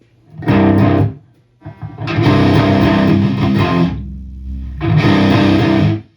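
Electric guitar through a Randall RG100ES amp with the distortion turned up, played loud in three heavily saturated bursts separated by short pauses and a low sustained note, no talking.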